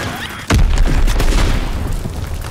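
A grenade detonates in a World War 2 video game, a sudden loud close boom with a heavy low rumble that lingers and rolls on for a couple of seconds.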